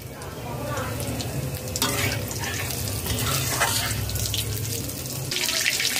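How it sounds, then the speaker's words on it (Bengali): Green chillies and whole cumin seeds sizzle and spit in hot mustard oil in a kadai, a steady loud frying hiss with stirring scrapes throughout. "2টি কাঁচা লঙ্কা, সামান্য পরিমাণ গোটা জিরা দিয়ে দিলাম।"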